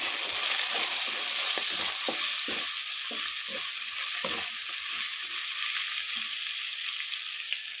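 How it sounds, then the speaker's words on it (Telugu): Ivy gourds frying in a pan with onion and curry leaves, producing a dense, even sizzle throughout, with a few soft stirring scrapes early on, close by and steady. "ఈ దొండకాయలు అయితే ఫ్రై అయినాయి"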